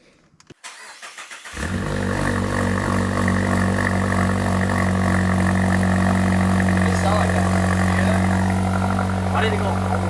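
A Mazda 3 turbo with a Corksport 80mm exhaust starts after a few brief cranking sounds, then settles into a loud, steady, deep idle rumble heard close by, with voices talking under the engine.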